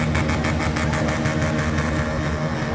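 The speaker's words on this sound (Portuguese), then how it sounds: "Deixa eu ouvir o ronco dessa moto aí." Motorcycle engine idling and rumbling steadily on a city street at night, a continuous loud low throb with a faint rhythmic pulse, no speech over it.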